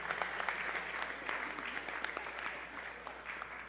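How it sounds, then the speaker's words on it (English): Audience at a young men's conference revival applauding, a steady, moderately loud patter of many hands clapping throughout, with no clear voices over it. "clap it up, give it up one time."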